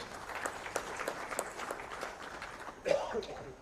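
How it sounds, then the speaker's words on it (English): An audience at an official education results announcement gives a round of applause, a faint, somewhat distant patter of clapping mixed with a little voice and crowd murmur. "This deserves another round of applause."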